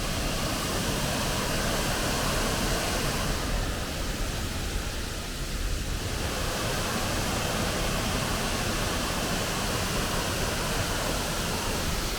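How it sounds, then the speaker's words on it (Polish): Nan Fon Sa waterfall in a Thai national park, fed by the Krung Ching stream, pours in a dense, steady roar of falling water that fills the whole stretch without a break. "Wodospad Nan Fon Sa jest najpiękniejszym wodospadem w tym parku"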